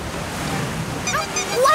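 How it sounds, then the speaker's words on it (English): A big ocean wave crashes in a children's cartoon: a broad surf roar swells louder toward the end, with bright whistling sound-effect tones sliding through the last half-second. "And here comes a really big wave."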